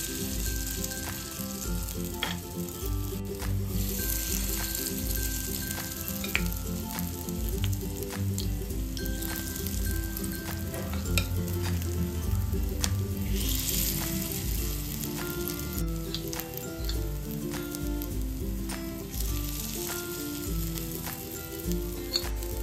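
Corn appe batter fries in the hollows of an appe pan with a steady, close sizzle and crackle that keeps up without pause for the whole stretch, with no voices over it.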